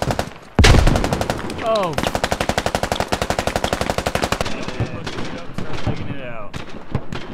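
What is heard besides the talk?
sniper gunfire in a video game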